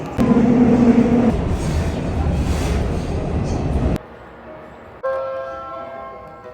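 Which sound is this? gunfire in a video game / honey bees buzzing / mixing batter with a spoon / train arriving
train arriving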